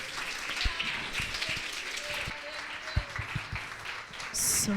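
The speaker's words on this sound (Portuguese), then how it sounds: "Você pode aplaudir o Senhor nessa noite." A congregation at a women's church service applauds, a steady wash of clapping running through the whole stretch with a few louder individual claps standing out, while voices murmur faintly underneath.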